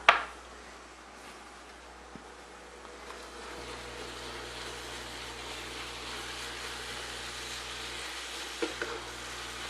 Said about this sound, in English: Sizzling nicely.